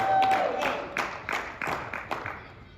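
A comedy show audience gives scattered applause for comedian Victor Daze, with distinct clustered claps that taper off as the clapping fades.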